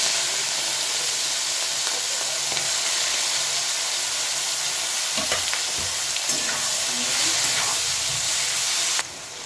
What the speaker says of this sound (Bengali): আমি এই যে কড়াইয়ে তেল দিয়ে দিলাম চিংড়ি মাছটা ভাজার জন্য